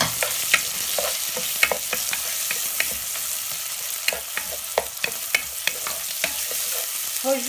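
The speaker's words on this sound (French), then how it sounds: "Nous allons commencer par friter les oignons." Onions and shallots fry in a pan for chicken biryani, giving a loud, steady sizzle broken by frequent sharp clicks and scrapes of stirring, with no voices.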